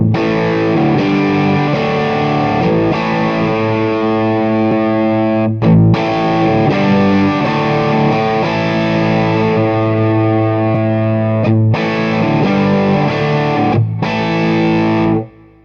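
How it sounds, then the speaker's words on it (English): Electric guitar played through a distortion pedal for a stereo rig, with chords ringing loud and steady while the pedal is toggled on and off, leaving brief gaps and only a small shift in the gritty tone. "I'll turn the distortion on, turn the pedal on and off."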